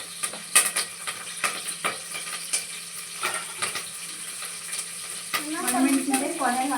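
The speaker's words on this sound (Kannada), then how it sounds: "ಜಜ್ಜಿಟ್ಕೊಂಡಿರೋ ಬೆಳ್ಳುಳ್ಳಿ ಹಾಕಿ, ಕರಿಬೇವು ಹಾಕಿ" Crushed garlic and curry leaves fry in a pan, giving a steady sizzle broken by repeated clinks and scrapes of stirring, close and moderately loud, with a brief burst of stronger crackling near the end.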